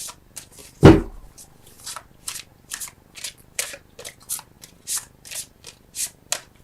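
Tarot cards shuffled by hand to draw a clarifier, starting with one sharp knock and then steady rhythmic riffling bursts at close range, with no talking.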